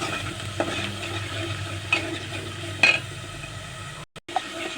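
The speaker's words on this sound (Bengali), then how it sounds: "এবার ভালো করে কষে তুলব।" Garlic paste and spices sauté in a pan with a moderate, even sizzle, punctuated by a few sharp clinks of a spoon against the pan. The sound briefly cuts out near the end.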